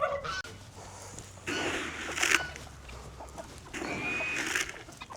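Chickens outdoors on a farm on a cold day, several close clucks and squawks in short bursts with brief pauses between them.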